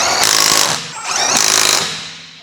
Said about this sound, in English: Use 22 mm long socket with electric wrench to tighten wheel hub nuts.